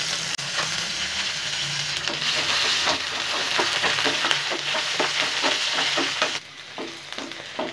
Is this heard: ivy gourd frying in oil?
yes